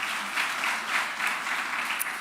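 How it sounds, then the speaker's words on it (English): Audience applause at an annual law society symposium, a steady, fairly close wash of clapping from a seated crowd that holds evenly throughout without pause. "You can just give him a round of applause."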